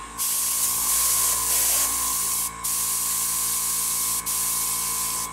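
An Aztek airbrush sprays runny paint onto a model starship saucer, a steady close hiss running nearly continuously with two brief pauses.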